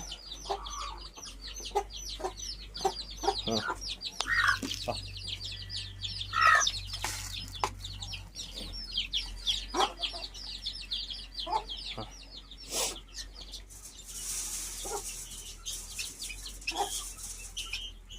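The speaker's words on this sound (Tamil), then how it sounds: "இது பெரிய கோழி சேர்ந்து சாப்பிடுதா" Several large chickens cluck and chirp close by while eating, in a busy, overlapping chatter, with scattered soft taps and rustles between calls.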